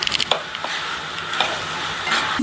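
A utensil scrapes and stirs paneer curry in a pan, with soft irregular scraping clicks over a steady, hissing sizzle, close and continuous.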